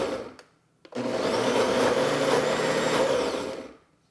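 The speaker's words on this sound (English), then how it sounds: "I'm gonna pulse it about 4 times" A hot cold blender pulses corn in one sustained motor run of about three seconds, a loud buzzing whir that starts abruptly after a brief click and winds down smoothly at the end.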